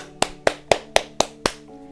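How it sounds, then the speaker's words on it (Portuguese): Six sharp, dry hand claps ring out at an even, steady pace, each one crisp and separate, with nothing else heard around them. "Palmas."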